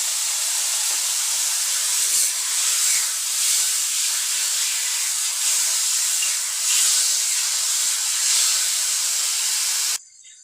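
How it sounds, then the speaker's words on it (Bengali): A tomato, eggplant, chili and garlic mixture hits a pan over a high gas flame and sizzles with a loud, steady hiss for about ten seconds before cutting off abruptly. "বানিয়ে রেখেছিলাম টমেটো, বেগুন, লঙ্কা আর রসুনের সেই মিশ্রণটি এর মধ্যে দিয়ে দেব।"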